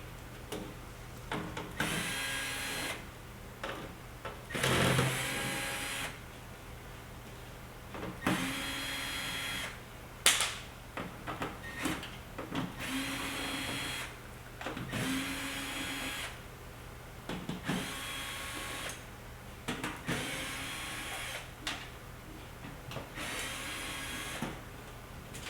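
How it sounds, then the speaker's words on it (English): A power screwdriver backing out quarter-inch screws from the back panel of a refrigerator, a series of short whirring bursts separated by pauses, close and fairly loud, with a steady low hum beneath and no talking. "Now we're going to remove the back panel by removing 9 1/4-inch screws."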